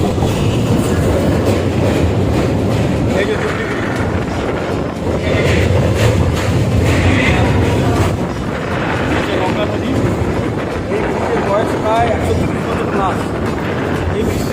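A train running near Jubilee Bridge on the Bandel to Naihati line produces a loud, close, continuous rumble and rolling clatter, with wind buffeting the microphone.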